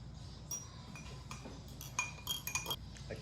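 A utensil clinks and taps against a small container while stirring melted pink lip balm base, a series of light, close clicks that grow busier toward the end over a quiet room.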